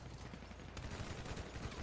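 Gunfire crackles in GTA NoPixel roleplay: a dense, muffled fusillade of rapid shots heard from some distance, fairly faint and continuous through the short stretch.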